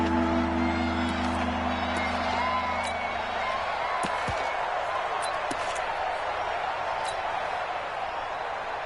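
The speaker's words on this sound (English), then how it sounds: "the crowd getting into it as we come up on a big 3rd down" Stadium crowd noise in a Browns vs Bengals football video game swells into steady, roaring cheers ahead of a big third down, a broad continuous wash of voices with a few sharp claps and thumps, while a commentator talks over it.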